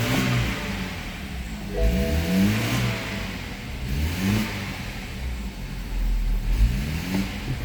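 2012 BMW 528i xDrive with N20 engine and automatic transmission running nearby, a steady mid-pitched hum with a few gentle revs rising and falling, no talk.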